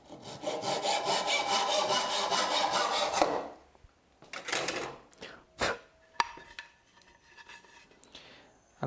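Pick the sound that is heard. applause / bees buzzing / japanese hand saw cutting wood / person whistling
japanese hand saw cutting wood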